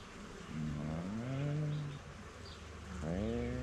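Honeybees buzz close by while a colony is being installed into a hive, a droning hum that rises and falls in pitch as individual bees fly past, in two swelling passes over faint background noise.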